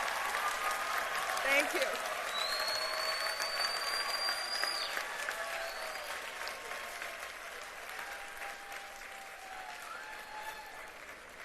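Audience at a 2023 pharmacy school commencement ceremony applauds steadily for the graduates' supporters, a dense sustained clapping that slowly fades, with a brief spoken thanks over it.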